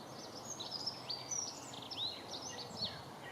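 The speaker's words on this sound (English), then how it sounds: "It's lovely to sit here though and listen to the old birds singing" Several birds sing in a garden in quick, high chirps and short warbles, fairly faint and at a distance, over a soft outdoor hiss.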